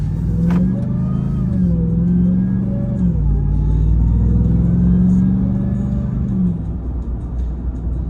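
A Ram TRX truck with a 6.2 liter supercharged Hellcat V8 accelerates, its close, heavy engine drone climbing in pitch, briefly dropping as it shifts, then climbing again under a deep rumble.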